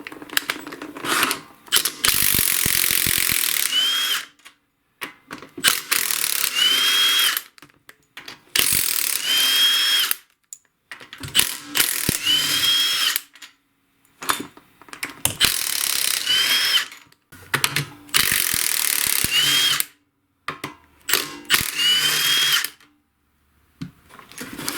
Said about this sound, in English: So I've got a 13mm socket here on my impact.